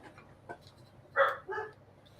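Dogs barking somewhere in the background during a casual hangout stream: a short bark, then two louder yaps close together, fairly faint and set against a low room hum.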